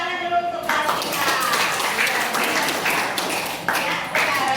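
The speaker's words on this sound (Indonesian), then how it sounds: "Kasih tepuk tangan dulu untuk kelas kita." A class of children in a social studies lesson bursts into clapping after a brief moment of talk, the quick overlapping claps carrying on fairly loud and close to the end.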